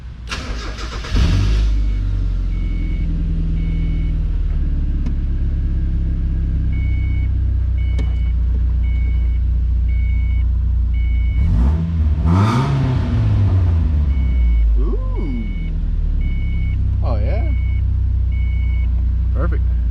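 An aftermarket exhaust on a Mazda Miata project car barks loudly as the engine cranks and fires, then settles into a rumbling idle with a few sharp revs, while a steady beeping chime repeats and a voice speaks briefly.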